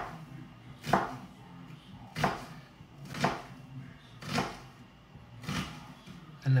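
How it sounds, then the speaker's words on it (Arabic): A knife chops through an onion on a board in a home kitchen, with five evenly spaced, crisp cuts about a second apart and no talking. "خليني اقطع البصلة"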